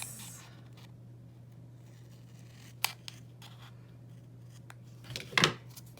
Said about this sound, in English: my scissors and cut this